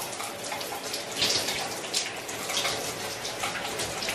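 Shower water pours steadily while dye is rinsed out of hair, a close continuous hissing splash with slight surges and no voices.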